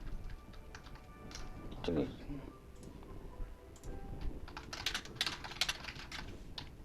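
A computer keyboard is typed on in short bursts of quick, light clicks, with quieter pauses between them, close to the microphone over faint room noise.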